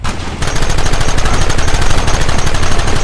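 Rapid, continuous gunfire in Red Dead Redemption, a loud, dense rattle of shots firing nonstop after a brief quieter start, close and alone without talk.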